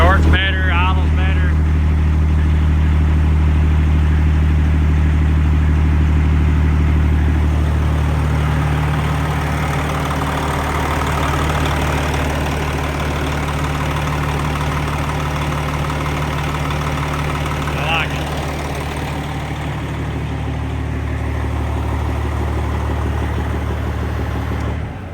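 A truck engine idles smoothly and steadily with a low, even rumble throughout, while a person talks over it.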